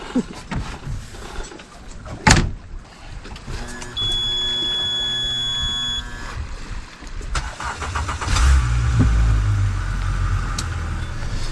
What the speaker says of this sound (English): get the engine started before I end up back on the shore